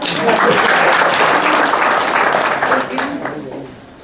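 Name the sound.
audience clapping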